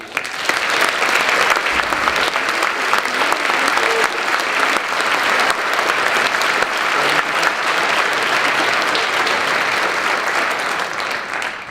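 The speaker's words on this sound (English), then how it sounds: "please join me in one more time with a round of applause for our new inductees" A packed room applauds new honor society inductees, a loud, continuous rush of clapping that stays even and full throughout.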